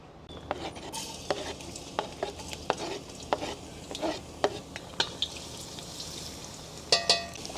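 Cooking oil sizzles in a pan as mung beans are sautéed for sinigang na monggo, with a steady frying hiss under repeated sharp clinks and scrapes of a utensil against the pan, close and without talk.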